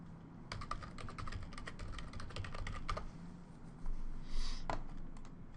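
Computer keyboard keys clacking in quick bursts while a shortcut name is entered into an app launcher, steady close-up typing with a brief pause near the end.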